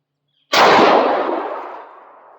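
A single loud close shotgun blast from a Panzer M4 tactical fired outdoors at 30 yards, a sharp sudden report with a long fading echo.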